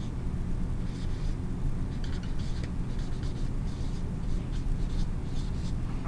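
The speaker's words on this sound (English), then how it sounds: "right here we'll write symmetry." Pen writing a word on paper, a series of faint scratchy strokes in short bursts, close but partly buried under a loud steady background rumble.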